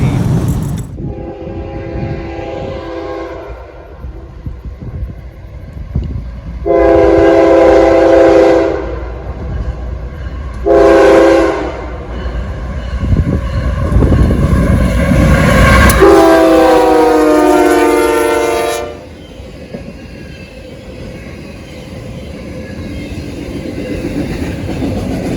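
A train passes close by in the rain, its horn blowing loud in several long blasts separated by gaps, over the steady rumble and clatter of the rail cars.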